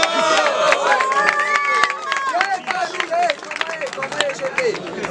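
A crowd at a rap battle in Guarulhos cheers, whistles and claps loudly, a dense roar with sharp claps throughout while a voice shouts over it.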